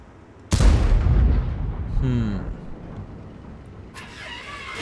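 A tank cannon firing in World of Tanks, a single loud sudden boom that rumbles and fades over a couple of seconds, followed by quieter mechanical clanks and a short metallic rattle.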